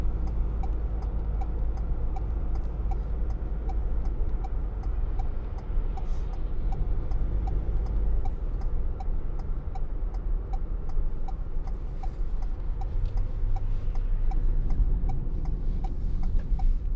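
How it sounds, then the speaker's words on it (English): A steady, rapid ticking of a turn signal runs throughout over the constant hum and road rumble of a moving 2019 Ford Transit Custom 2.0 TDCi van on a bumpy road. "I'm going to start indicating early, because otherwise these cars will bunch up behind me"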